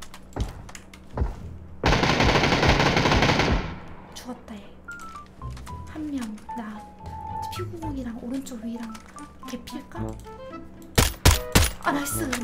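A sustained burst of rapid automatic gunfire from a game, followed by a few sharp shots near the end, with a voice talking between.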